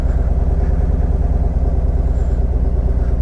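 A 2017 SGS motorcycle engine running steadily at low revs with a lean surge, a continuous close rumbling drone that holds level throughout with no clear drop when the clutch is pulled in.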